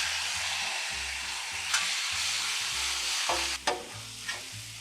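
Chicken frying in olive oil in a hot pan, a steady sizzle with a few sharp scrapes and clanks of a utensil stirring, close and fairly loud.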